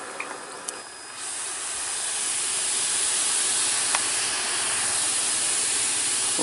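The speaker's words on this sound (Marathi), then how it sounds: "तर त्यामुळे ह्याच्यात आपण पाणी कंटिन्यू एअर देऊन मिक्सिंगचं काम करतो" An air blower aerates the water of a biofloc fish tank with a steady, loud hiss of rushing air and bubbling that builds after a brief quieter start, then holds constant with no speech.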